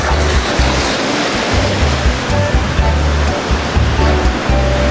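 Ocean waves break along Bavaro Beach in a continuous loud wash of surf, heard close by and without speech, while a low rhythmic thumping pulses underneath.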